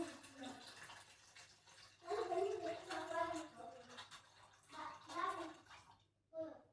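Water gushes into a vessel of cream for homemade ghee in short bursts, close and soft, with a voice talking softly between and over the pouring.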